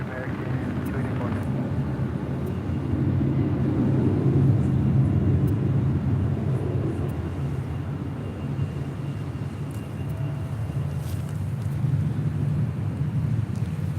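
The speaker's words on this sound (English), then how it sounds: "That was Delta Airlines Flight 368 coming in from Honolulu on that A321 Neo." Delta Airbus A321neo airliner from Honolulu landing at LAX, a steady low jet roar rumbling continuously throughout with wind buffeting the microphone and voices speaking over it.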